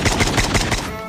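Rapid, loud shots from an SKS marksman rifle in Call of Duty Mobile, about five evenly spaced booms within a second before fading into a short tail.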